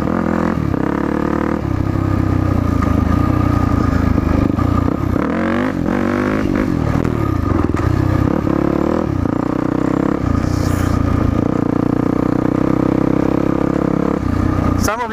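A dirt bike engine revs hard and steadily as the rider blips the clutch and throttle to lift the front wheel, a loud, continuous motor drone with rising and falling pitch and some clatter, close to the microphone.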